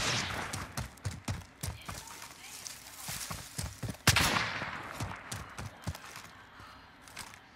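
Gunfire in the video game Call of Duty: Modern Warfare, a series of sharp shots, some in quick bursts and others single, with footsteps between them and players talking over the action.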